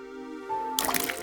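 Water trickling and dripping onto potted plants as a watering can is tipped in The Berlin Apartment game, a soft steady pour following a faint tonal hum, alone and close.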